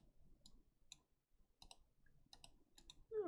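Clicking while playing an online game: soft, faint mouse clicks arrive singly and in quick pairs over a quiet background, and a brief tonal sound comes in at the very end.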